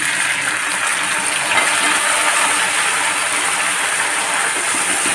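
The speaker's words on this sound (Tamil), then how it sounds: "இது நல்லா வதங்கட்டும் பாருங்கள்" Half a kilo of tomatoes sauté in a pan for a biryani gravy mix, giving a steady, even sizzling hiss that runs unbroken throughout with no talk.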